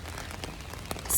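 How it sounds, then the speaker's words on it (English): Light rain falls outdoors during a walk, a soft steady patter on the ground with a few slightly louder drops near the end and no voices. "Semi-light rain."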